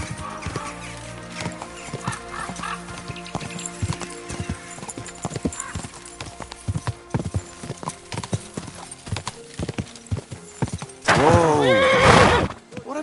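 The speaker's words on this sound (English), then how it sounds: "What a beautiful horse." Hooves clip-clop along in a steady rhythm in Kingdom Come Deliverance 2, joined near the end by a loud, close horse neigh and whinny.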